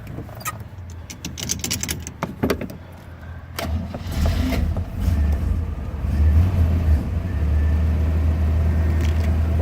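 A 1964 Corvette engine idling after a jump start from a jump box, beginning with clicks and rattles, then settling into a steady, close, rumbling idle with no talking.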